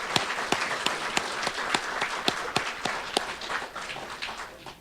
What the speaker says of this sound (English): Let's give an applause to those people who are advisory council